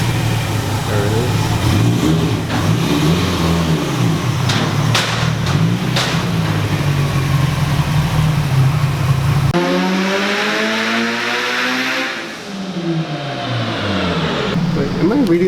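A tuned Subaru STI engine roars on a dyno, holding a loud, steady rumble before a sharp shift to rising and falling harmonic revving near the end, with people talking over it.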